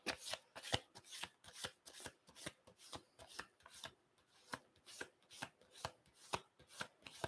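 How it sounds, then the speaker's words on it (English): Cards from a deck of 92 alchemy cards are flipped and shuffled through by hand, a quick run of crisp, repeated riffling snaps, close and steady, with no talking. "Let's see if we can just quickly find it amongst the 92 alchemy cards that I've got."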